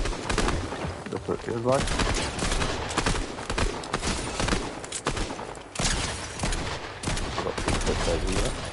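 Rapid bursts of pistol fire in the video game Fortnite, sharp repeated shots in quick clusters across the clip, with a voice speaking briefly over the gunfire.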